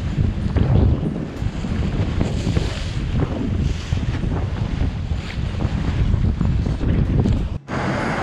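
Strong coastal wind in Trindade, Brazil roars steadily across an open microphone, gusting and buffeting continuously with a low rumble, with a brief dropout near the end.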